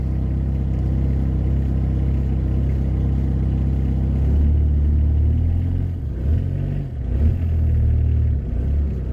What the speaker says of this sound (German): Mal gucken, ob er ein bisschen Gas annimmt.